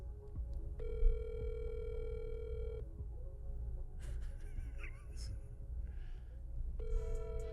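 A phone call to Mike Jones rings out of a speaker, two long electronic ring tones separated by a pause, moderately loud, with faint murmuring in between and no clear speech.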